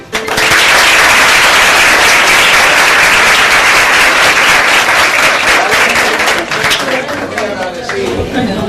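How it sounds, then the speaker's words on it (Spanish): Loud, dense applause from an audience welcoming a university lecturer at an academic talk, sustained for several seconds before tapering slightly near the end. "Con el aplauso de ustedes."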